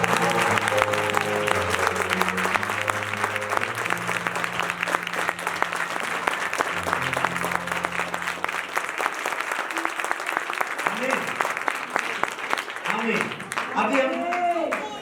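Loud, sustained applause from a worship gathering crowd, dense clapping throughout with singing or musical tones and voices mixed in early and near the end.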